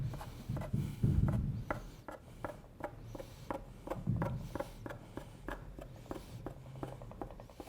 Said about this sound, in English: And I can just cut this with a spoon or a knife.